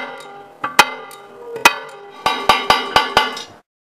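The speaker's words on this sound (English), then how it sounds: "Reduce the tapping force after opening the first section of the cut." Thick glass being tapped along a circular score cut to open it, giving a series of sharp, ringing knocks: two spaced taps, then five quicker ones in an even rhythm, close and fairly loud with no talking.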